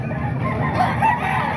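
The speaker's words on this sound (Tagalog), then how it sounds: "Ayan mga boss, magandang manok na." A rooster offered for sale at the Baliwag tiangge market lets out a brief, close crow amid clucking fowl, over a busy market background with no talk.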